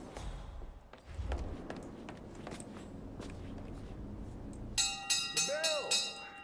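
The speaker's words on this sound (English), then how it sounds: "Some idiot rang the bell by mistake." A bell rung in the Hitman video game sounds near the end as a few bright, ringing metallic strikes with long resonant decay, following quieter footsteps and background game ambience.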